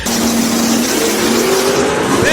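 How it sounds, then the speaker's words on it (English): A twin-turbo Godzilla-engined 1980 Mercury Zephyr wagon makes a drag-strip pass, its engine roaring loud and close with a steadily rising pitch as it accelerates down the track. "A Godzilla Twin Turbo 1980 model Mercury Zephyr wagon. And he goes 860 with a 7 at 160 miles an hour for Kevin."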